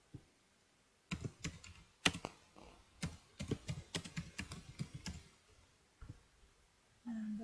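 Typing on a computer keyboard during a client-server chat demo, bursts of close, crisp key clicks in irregular clusters with short pauses between them.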